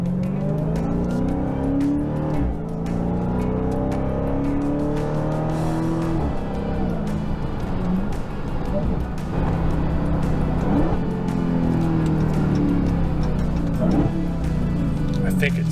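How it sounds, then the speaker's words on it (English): Supercharged engine of a Dodge Charger SRT Hellcat Widebody revs and roars loudly and continuously, with rising and falling pitch sweeps of acceleration and downshifts, close and dominant throughout. "See if I can show you what this supercharger sounds like here."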